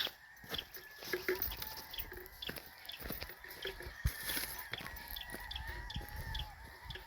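Fighting cocks at a gamefowl farm in Murcia, Negros Occidental cluck and call in scattered bursts, some near and some farther off, over a low outdoor background.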